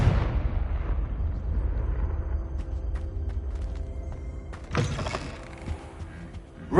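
A blasting spell explodes in Hogwarts Legacy on PS5 as a loud low boom that rumbles and decays over several seconds, then a second sharp burst cracks out near the end.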